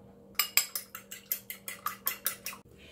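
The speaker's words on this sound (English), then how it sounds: "I will beat an egg." An egg beaten briskly by hand with a utensil against a bowl for cookie dough, about eleven quick, evenly spaced clicking strokes close by, with no talking.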